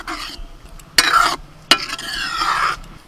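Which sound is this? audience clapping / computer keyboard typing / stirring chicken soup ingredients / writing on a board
stirring chicken soup ingredients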